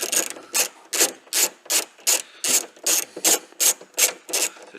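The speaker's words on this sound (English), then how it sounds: "T40 and then a 10 mil socket that you'll need" Ratchet wrench with a 10 mm socket backing off tailgate spoiler fixings on a Range Rover Sport, a crisp close clicking in about ten even bursts, alone and without talk.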